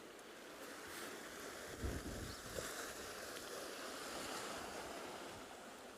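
Ocean surf breaks on a penguin beach, a continuous wash of waves with wind buffeting the microphone and a couple of heavier surges, fairly faint and distant with no voices.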